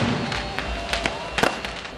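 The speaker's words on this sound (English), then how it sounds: "we'll try to connect the two banks by having fireworks on the river" Fireworks burst over a river at a summer festival in Exeter, several sharp cracks and pops in quick succession over a low rumble and distant crowd noise, loud and fairly close.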